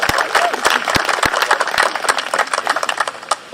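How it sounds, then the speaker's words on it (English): Audience at a Montclair Memorial Day tribute claps for the community band, a thin, scattered outdoor applause of individual hand claps heard at moderate distance. "let's give them some round of applause"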